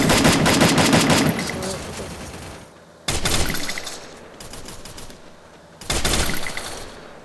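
Rapid automatic gunfire from the mobile shooter game Free Fire rattles in long, loud bursts separated by quieter stretches of distant game ambience.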